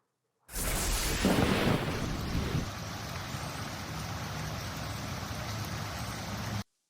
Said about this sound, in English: We got rain moving on down, and then all of a sudden the street looks more like a creek.